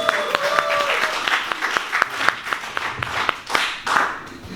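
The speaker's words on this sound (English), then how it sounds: "So give a big round of applause because she's the first one" An audience claps and applauds at a welcome party before a song performance, a steady burst of sharp hand claps lasting several seconds, with some crowd voices mixed in.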